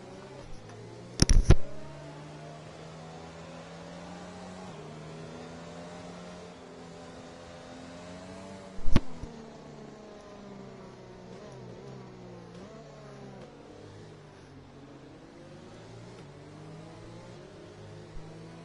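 F1 2020 race cars lap a track with a steady high-pitched engine whine that sweeps up and down through gears, interrupted by two sharp loud bursts.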